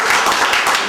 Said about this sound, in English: So can I have a round of applause, please?